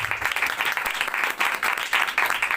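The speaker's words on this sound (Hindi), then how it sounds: "आइए जोरदार तालियां खुदा के जलाल के लिए।" A church congregation applauds enthusiastically, with dense, continuous clapping sustained throughout at a steady loudness.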